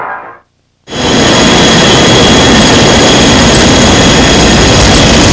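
A jet engine running at 55% throttle starts with a brief muffled sound and a short silence, then roars loud and steady across the whole band, a constant near roar with no talk.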